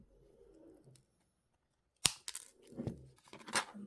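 Small snips and clicks of cutting during jewellery making for mini pumpkin pendants, a few quiet sharp cuts with faint handling rustle after a near-silent pause.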